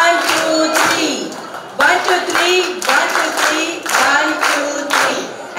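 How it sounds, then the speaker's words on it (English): School children's assembly audience clapping in rhythmic bursts of three for teachers and students, loud, close and repeated, with voices calling out between the claps. "I want thundering claps from everyone for the 2 teachers and for my lovely students"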